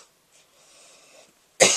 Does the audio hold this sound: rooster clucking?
no